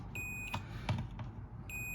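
A multimeter's continuity tester beeps while its probes check the plug of an extension cord being repaired, giving two sustained electronic tones near the start and the end, with faint handling clicks between them.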